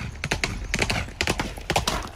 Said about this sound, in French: c'est donc un cheval trapu, bien musclé, qui servait donc aux travaux de la ferme